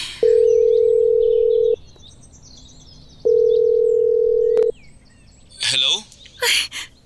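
A phone ringback tone sounds twice in long, steady beeps, heard while calling a lost cellphone, followed by brief chirpy sounds and short bursts of noise as the call connects.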